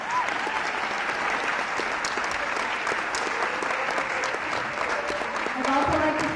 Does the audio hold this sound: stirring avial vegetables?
no